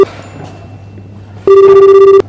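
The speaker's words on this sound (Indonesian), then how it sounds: "Oke lah, aku coba telepon dia." A telephone rings loudly in a single sustained electronic burst near the end, during a teen Easter drama scene. A brief clipped tone comes at the very start, with quiet room noise in between.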